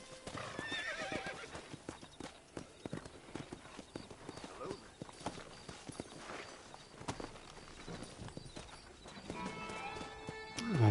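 Horse hooves clip-clop at a relaxed walk in Red Dead Redemption, soft repeated hoofbeats with an occasional whinny, some game dialogue and ambient sound around them, ending with a louder rustle.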